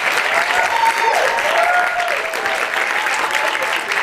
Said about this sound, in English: let's go ahead and give a round of applause for Dr. Leome Bliss.